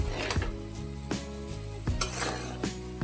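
Fried ingredients being stirred into chowmein in a hot pan, a continuous sizzle broken by repeated scraping and clanking strokes of a utensil, close and steady, with no talking.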